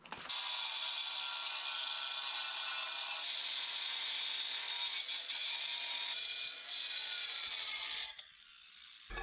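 Continuous loud sawing through a wooden roof batten, a steady uninterrupted rasp that runs for about eight seconds before stopping abruptly, followed by brief quiet.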